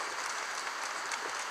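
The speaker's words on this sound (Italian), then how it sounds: "facciamo loro ancora un grande applauso" A continuous wash of audience applause fills a short stretch. The dense, steady clapping comes at moderate distance with no break.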